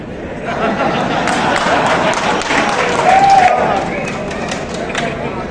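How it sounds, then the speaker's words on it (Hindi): A crowd claps at a civic welcome celebration honouring an MP, the applause mixed with crowd chatter and voices throughout, holding at a fairly even level. "यहाँ 2 तरह की तालियां बजती है।"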